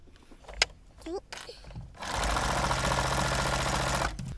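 A sewing machine with a walking foot runs a steady, close whirring stitch for about two seconds as it sews forward and back along a pocket edge. Faint clicks and handling noises come before it.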